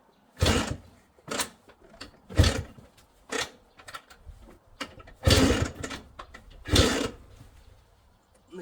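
A Minsk 125 motorcycle, first started after three years unused, fires in a series of loud, sputtering engine bursts about once a second, each rising sharply and dying back toward near silence.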